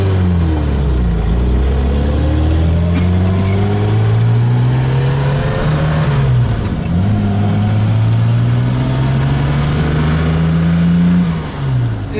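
A 1970 Jaguar E-Type Series 2 2+2 coupe engine runs steadily up close, its loud rumbling note rising and falling through several revs, with no talk over it.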